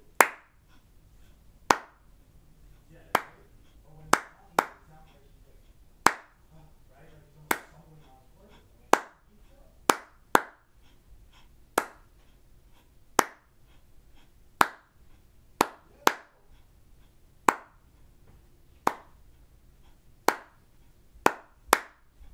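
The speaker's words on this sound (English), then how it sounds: "let's clap it one more time, and this time I'm not gonna say the rests out loud" Hands clap out a rhythm exercise for beginner flute practice from Standard of Excellence Book 1, with about twenty crisp, close claps spaced unevenly to mark notes and rests, over a faint room hum with no voice.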